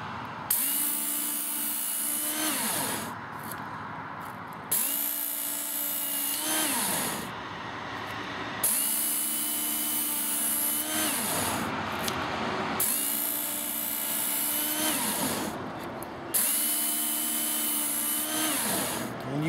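WorkSharp belt knife sharpener grinding a dull knife on its green belt, a steady whirring motor broken by repeated passes of the blade, roughly every few seconds, loud and close with no talking.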